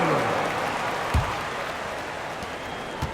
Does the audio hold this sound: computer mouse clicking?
no